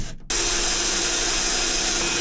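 A power drill bores into wood while a kitchen is fitted into a camper van, a loud steady whirring and grinding that starts abruptly after a brief pause and runs continuously, close up.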